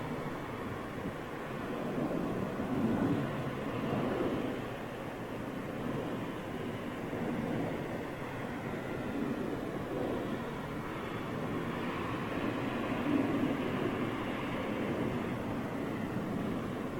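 An Emirates Boeing 777 airliner rolling down the Heathrow runway, a distant, steady rumbling roar blended with wind buffeting on the microphone, rising and falling gently throughout.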